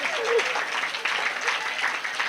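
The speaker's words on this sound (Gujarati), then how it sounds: "હા એડી તાળી વજાયો" A crowd at a live Kutchi comedy show bursts into a short round of clapping, a voice briefly heard over it.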